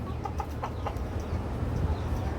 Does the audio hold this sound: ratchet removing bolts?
no